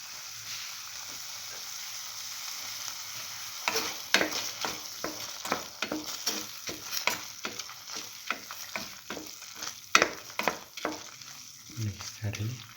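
Potatoes stir-frying with seasoning in a frying pan give off a soft sizzle under a brisk, uneven run of scraping and tossing strokes from a spatula, close and fairly loud.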